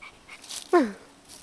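A small dog gives a single short, high whimper near the microphone, a brief nasal whine with a falling pitch in an otherwise quiet moment.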